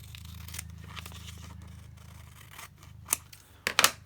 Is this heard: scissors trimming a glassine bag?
yes